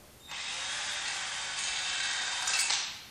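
A power drill bores downward through a large rail of a homemade camera crane, a steady high whine running continuously for nearly three seconds with a slight rise in pitch near the end.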